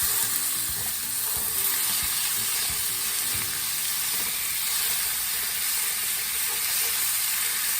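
Ground beef, one pound of it, hits a hot pan and sizzles in a loud, steady hiss that continues throughout, with a few soft scrapes and knocks near the start.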